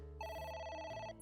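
A telephone rings in the video game AI: The Somnium Files, with a bright electronic trill ringing clearly over a low steady background hum for about a second.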